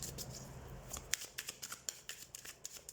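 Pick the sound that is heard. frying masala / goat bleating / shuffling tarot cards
shuffling tarot cards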